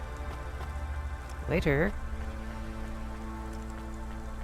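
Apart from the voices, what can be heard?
rain falling in the video game Cloudpunk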